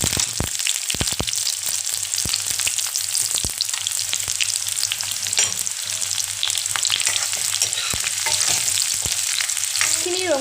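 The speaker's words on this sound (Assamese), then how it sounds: "তেলখিনি যেতিয়া ভালকৈ গৰম হ'ব মই কাটি থোৱা পিয়াজখিনি আৰু তেজপাতখিনি দি দিম" Chopped onions and bay leaves fry in hot oil in a kadai, a steady loud sizzle with occasional sharp crackles and scraping stirs, no voices.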